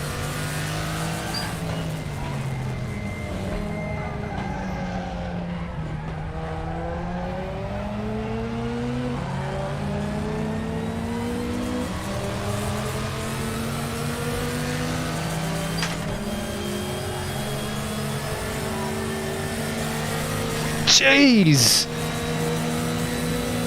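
Group 5 race car engines in a RaceRoom sim race, a loud droning engine note rising and falling through gear changes and laps, with someone talking over it and a brief harsh burst near the end.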